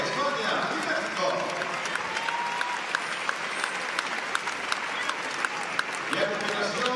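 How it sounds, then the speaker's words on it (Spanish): Applause fills a fronton during the women's paleta goma podium at a world championship, a steady wash of clapping with sharp individual claps standing out and a voice speaking over it. "Fuerte aplauso a las tres primeras clasificadas"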